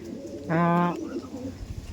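A single clear, drawn-out coo from a pigeon lasts about half a second, close and fairly loud, with a softer murmur and background noise around it.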